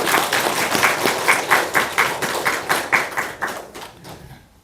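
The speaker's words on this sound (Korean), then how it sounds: "박수 한번 주십시오." A small church congregation at an Easter Sunday service claps after a member takes a membership vow. The claps are rhythmic and fairly close, in distinct regular beats, and taper off near the end.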